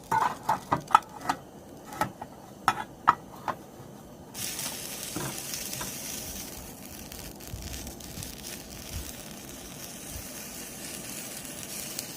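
A few sharp clicks and taps at first, then a steady, fairly quiet sizzle of food frying in a pan that continues to the end.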